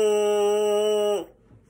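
A tense, tight lip buzz on a brass mouthpiece from low brass playing, one steady, bright, reedy pitched buzz held for about a second before cutting off, played alone and close.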